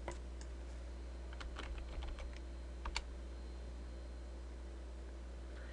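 A handful of soft keystrokes tap on a computer keyboard in a short cluster, quiet and close, over a constant low fan-like hum.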